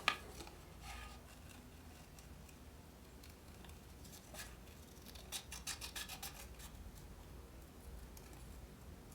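Scissors cutting a cucumber shape from paper, faint close snips and soft rustling of the sheet, with a quick run of rhythmic snips in the latter half against a quiet room.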